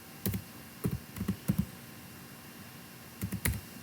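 Scattered bursts of close keyboard typing while entering text in Excel, small clusters of crisp key taps separated by a quiet pause, with no speech.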